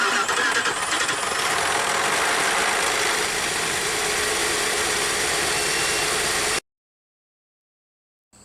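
A big six-cylinder engine cranks briefly on a battery jump starter, catches and settles into a loud, steady idle for several seconds before the sound cuts off abruptly.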